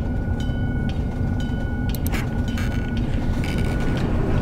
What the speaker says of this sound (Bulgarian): аз знам, че влако идва, ма.